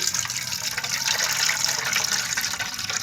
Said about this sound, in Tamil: புளியை கரைச்சி எடுத்தாச்சு, வடிகட்டிக்கலாம்.